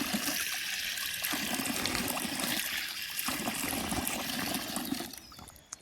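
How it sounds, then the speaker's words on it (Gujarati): Spring water from a hillside pool in the Barda hills, flowing freely without any pump, trickles and splashes steadily and fairly close, with a denser burst near the end. "મોટર વગર આમાં પાણી આવે જોઈ લ્યો"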